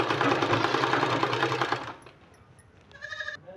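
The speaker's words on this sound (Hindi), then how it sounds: "इसको इस तरह से रख के हमको इसमें सिलाई लगा देना है" A sewing machine runs fast and loud, stitching two one-inch fabric strips together for a sleeve, with a steady whirring rattle for about two seconds before stopping, followed by quieter handling noises.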